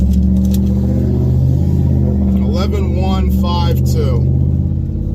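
Drag racing car at the strip, a continuous loud engine drone with a rising rev partway through under a man's speech, heard from near the vehicle.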